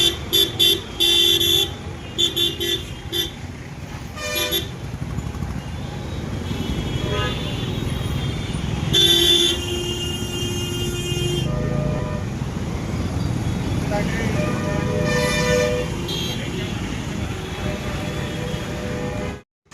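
Dense road traffic rumbles steadily, with several car horns honking in short bursts and a few longer blasts, some near and some farther off.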